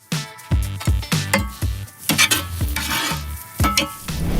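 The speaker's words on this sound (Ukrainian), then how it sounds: "ми можемо повертати нашу сковорідку вже на її гаряче місце, продовжувати її гріти і додаємо сюди одразу нашого шикарного часничку" Garlic hits a hot frying pan while shakshuka is made, sizzling softly beneath repeated clanks and scrapes of a utensil stirring against the pan, close and busy throughout.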